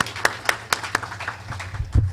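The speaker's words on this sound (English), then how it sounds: "Another hand of applause." Brief applause at a live-streamed Kenya USA Diaspora Sacco meeting, a handful of sharp, evenly spaced claps standing out over a low room hum before fading into quieter background noise.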